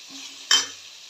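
A spoon scrapes once against a pan of fried onions and turmeric, a short scraping stroke in the middle over a low steady sizzle.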